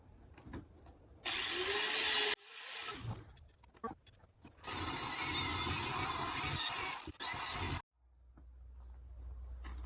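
A wire wheel on a power tool grinds rust and crud from a cast iron skillet, running in two long loud whirring bursts with short stops and a spin-down between, up close.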